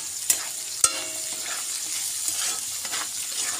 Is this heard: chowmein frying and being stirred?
yes